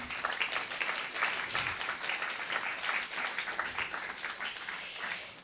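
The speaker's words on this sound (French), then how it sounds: "On applaudit" An audience at a sleep conference breaks into sustained applause, a dense, even wash of clapping from many hands that holds for several seconds before cutting off abruptly.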